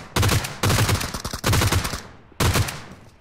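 Four bursts of rapid automatic fire from a G36C assault rifle at targets in the video game PUBG Mobile, each short volley loud and close, separated by brief pauses.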